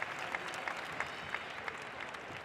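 An indoor arena crowd at the X-Trial Madrid motorcycle trials final applauds the riders, a steady distant wash of clapping with faint scattered peaks.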